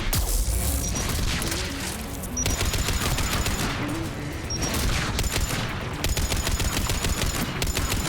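Rapid bursts of automatic gunfire in a Mass Effect 3 firefight, loud and sustained throughout with brief lulls between volleys, no voices over it.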